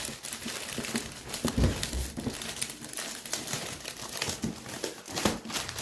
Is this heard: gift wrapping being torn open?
yes